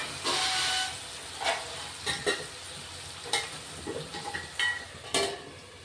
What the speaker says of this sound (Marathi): आता कांदा टोमॅटो चांगले शिजत आहे आपण त्याच्यावर ना दोन मिनटं झाकून झाकून ठेवू वाफेवर थोडं शिज शिजवणार आहे